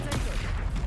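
An Incendio fire spell bursts in Hogwarts Legacy combat, a loud, dense whooshing blast that fills the short moment with roaring, crackling energy.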